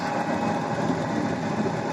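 Turbine blower on a homemade grain dryer, driven by a diesel engine, hums and whirs steadily with a dense, continuous mechanical drone, close and loud with no breaks.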